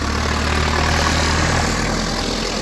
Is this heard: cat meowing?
no